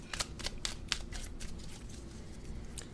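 A deck of tarot cards is shuffled by hand, producing a quick run of crisp riffling flutters and taps, close and clear with no talking.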